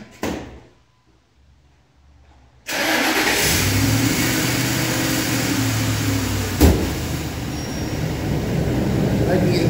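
A 2003 Lincoln Navigator engine cold-starts after a quiet stretch, catching with a loud burst and then settling into a steady, fairly loud idle with a brief rev spike partway through, heard close up.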